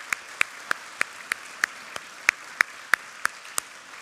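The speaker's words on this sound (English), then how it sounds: "We'd like to give them a round of applause." Slow, evenly spaced single claps ring out one at a time, about three per second, crisp and fairly close in a church sanctuary after an arts concert, with a quiet room behind them.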